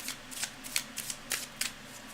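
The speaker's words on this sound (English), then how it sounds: "I've already shuffled, but I'm going to go just a little bit more" Tarot cards shuffled by hand in a quiet room during a live reading, with a run of soft, papery riffling bursts coming at an uneven rhythm over a faint low hum.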